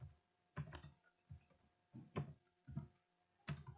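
Keyboard typing to fill in a Gmail sign-up form, heard as five quiet bursts of clustered key taps with short pauses between them, with no voices.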